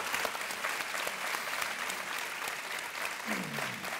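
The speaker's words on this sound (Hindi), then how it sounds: "ताली बजती रहनी चाहिए।" Sustained applause from a television quiz show studio audience on KBC, steady and dense throughout with a brief low tone sweeping in near the end.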